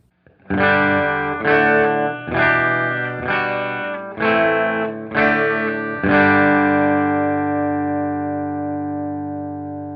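Clean electric guitar plugged straight into the amp with no pedal, chords strummed about six times at a steady pace, the last one left ringing and slowly fading.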